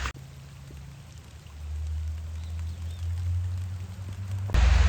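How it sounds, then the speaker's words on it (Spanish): Steady heavy rain pours down in Campos do Jordão, Brazil, as a dense hiss with a low rumbling undertone, growing louder toward the end. "Y se acaba de largar la lluvia. Ahora sí se largó fuerte."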